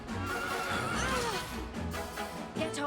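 A horse neighs loudly and close in Dragon Quest XI, a wavering whinny over a faint clatter of hooves.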